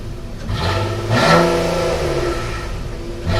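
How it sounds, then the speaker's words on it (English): A 2016 Nissan Maxima S V6 with CVT starting up, a raspy burble that swells into a short rev, then settles to an even idle with a slight second rise near the end, close and with no talk. "when you start this thing up, it gives you kind of a nice little raspy V6 burble."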